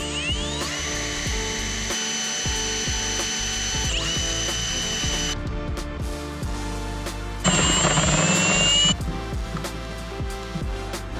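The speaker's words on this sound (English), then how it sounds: "Once those are all drilled, we'll go ahead and install them." A drill bores mounting holes in a Toyota Tundra shift bezel for a billet switch-panel mount, a steady high whine running throughout at close range with a louder, harsher stretch near the end and no talking.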